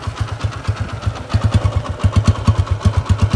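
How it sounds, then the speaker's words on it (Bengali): A second-hand 2018 TVS Apache RTR 160 motorcycle idles nearby, its engine giving a steady, even low throb of rapid regular pulses with no voices. "বাইকটি এখনো স্টার্ট অবস্থায় আছে।"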